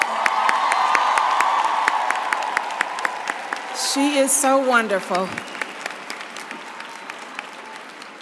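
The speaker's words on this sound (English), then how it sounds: "Can we give Ms. Henson another round of applause?" Large commencement audience at Spelman College applauding Taraji P. Henson, with sustained dense clapping and cheering that fades, then someone speaks briefly over the last scattered claps.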